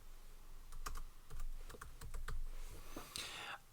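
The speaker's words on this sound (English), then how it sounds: "So you can type in their names" Keys clatter on a computer keyboard in quick, uneven bursts of clicks over a low, steady room hum, close up and fairly quiet, with a brief pause near the end.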